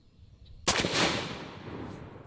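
A single shot from a suppressed 20mm Anzio rifle, a sudden sharp blast followed by a long rolling echo that fades slowly outdoors, after a short quiet pause, with no talking.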